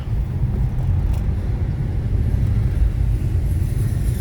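Low, steady rumble of construction trucks on a road inside a military camp, a continuous heavy engine drone without distinct passes, no talk.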